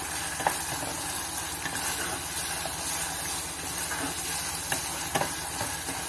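Chicken tikka cooks in a pan with a steady, even hiss and sizzle throughout, marked by occasional soft stirring taps. It is heard close and constant, with no voices.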